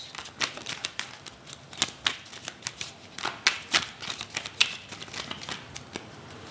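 Tarot cards are shuffled and drawn during a reading, a close run of crisp riffling snaps and flicks in irregular bursts, fairly quiet and with no speech.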